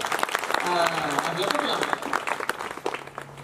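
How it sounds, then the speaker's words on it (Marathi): An audience applauds at a lecture in a hall, with a dense patter of clapping under someone speaking loudly and crowd voices. "वाह टाळ्या वाजवायला जोरात."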